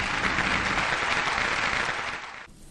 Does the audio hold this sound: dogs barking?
no